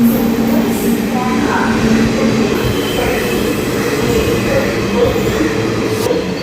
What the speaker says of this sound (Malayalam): കോഴിക്കോട് തിരുവനന്തപുരം ജനശതാബ്ദി എക്സ്പ്രസ് ആണ് ഈ വന്നിരിക്കുന്നത്.